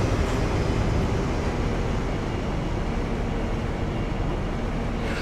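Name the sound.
HST train running in Train Simulator Classic video game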